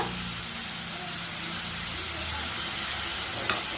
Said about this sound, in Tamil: கருவேப்பிலையும் வெங்காயமும் நல்லா வதங்கி வரணும்.